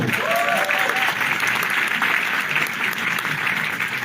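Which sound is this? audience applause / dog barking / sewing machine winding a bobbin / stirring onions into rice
audience applause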